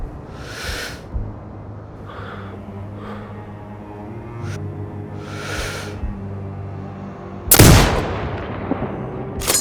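Sniper rifle shots ring out in the video game Sniper Ghost Warrior Contracts 2, a few sharp cracks spaced several seconds apart over a low ambient hum, the last and loudest near the end.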